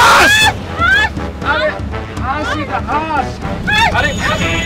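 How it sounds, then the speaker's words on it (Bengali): Ducks honk in a run of loud, nasal, repeated calls that overlap one another close by. "আরে এটা তো হাঁস।"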